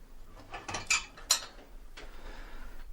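Clinks and clatters of clean dishes and cutlery being unloaded from a dishwasher at close range, a few sharp rattles spread over a few seconds with no talking.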